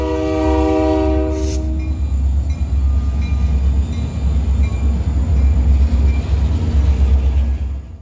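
A Kiamichi Railroad freight train blows a loud, sustained horn nearby, then its cars roll past with a steady heavy rumble and faint rail clatter.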